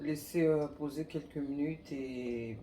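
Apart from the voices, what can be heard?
No distinct noise like a dog, phone or traffic.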